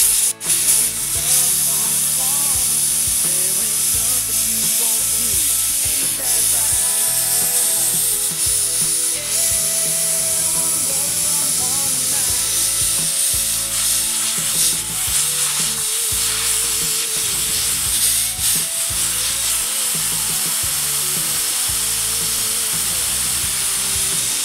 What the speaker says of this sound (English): trusty airline, compressor and a blower. And I just aim at the bricks that are already underneath, heat beads